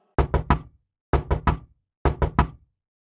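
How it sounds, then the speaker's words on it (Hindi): Three rounds of firm knocks on a gate at night, each a quick cluster of three sharp raps separated by short pauses, close and loud in otherwise quiet surroundings. "जब है गौर से सुनता है तो उसे गेट बजाने की आवाज आती है।"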